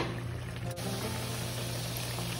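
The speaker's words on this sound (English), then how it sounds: "Now I'm gonna add a little water in here." A steady, continuous stream of water pours close by into a cooking pot, a full rushing sound that doesn't let up, with no talking.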